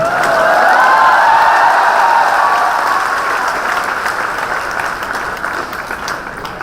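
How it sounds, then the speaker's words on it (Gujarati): An audience at an interview event in Rajkot applauds loudly and steadily, a dense wash of clapping that eases slightly toward the end. "એમને પણ જોરદાર તાળીઓથી આપણે વધાવીએ છીએ"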